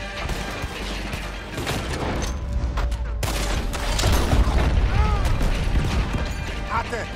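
Bursts of rapid gunfire and mechanical clatter from Red Dead Redemption 2, dense and continuous, with some sharp crashes and faint tonal effects mixed in.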